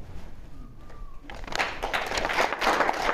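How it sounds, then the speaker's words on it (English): A political crowd of older Republicans bursts into applause at the mention of Ronald Reagan, clapping swelling from quiet after about a second and a half and holding at moderate loudness to the end. "you mention St. Reagan, it's a good way to get some applause"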